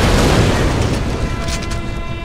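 Loud, close explosion in the video game Far Cry 4, a dense broadband roar that rumbles on for a couple of seconds with crackling debris.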